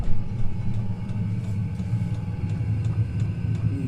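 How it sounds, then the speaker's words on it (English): A Chinese 12V diesel heater burning kerosene inside a shed hums with a steady low rumble and a faint, even ticking pulse throughout, close and unbroken, with no voices. "I wanted to show you my diesel heater"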